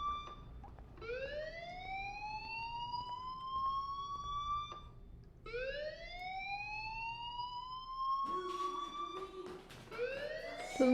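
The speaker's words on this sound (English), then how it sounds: "Hey, do you hear that fire alarm?" A fire alarm sounds in the video game Life is Strange as a loud, rising whooping tone that sweeps upward, repeats several times, and is joined by other clattering noise toward the end.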